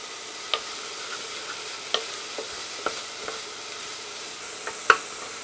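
Vegetables sweat in a pan with a soft, steady sizzle, broken by a few light scrapes and knocks as they are stirred, close and alone.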